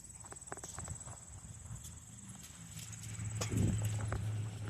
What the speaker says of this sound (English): there's some dude on a horse right behind me